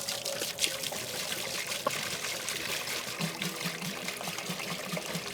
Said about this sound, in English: we're gonna get about 8 liters of water straight into the water dish.